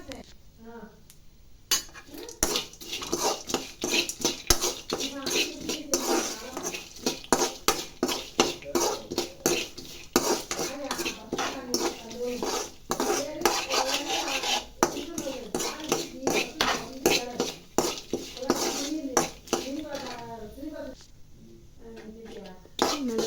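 Spiced puffed rice and roasted gram being tossed together in a bowl, with steady rustling, scraping and clinking of a utensil against the bowl, running continuously under a person talking.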